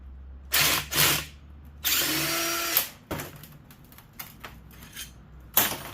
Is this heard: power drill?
yes